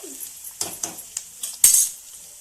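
Pulihora rice with garlic is stirred in a pan: a handful of sharp metallic scrapes and clinks from a spoon against the pan, close and distinct, with quiet gaps between strokes.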